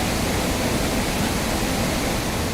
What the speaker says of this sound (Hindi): भारी बारिश से देवास में एक बरसाती नाला उफन रहा है